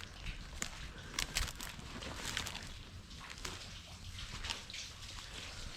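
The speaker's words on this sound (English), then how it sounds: "Oh, I can hear water just running inside here." Water running somewhere inside an abandoned WW2-era building in Scotland, a steady hiss of flow with scattered drips and light knocks, moderately close and continuous throughout.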